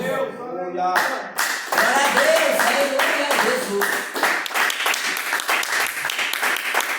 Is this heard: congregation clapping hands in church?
yes